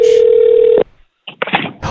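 A loud, steady single phone tone rings while a call is placed, holding for most of a second before cutting off, followed by a short pause and then the clatter and voice of the line being picked up.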